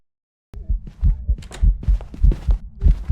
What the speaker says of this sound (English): Sounds like a regular speed ghost.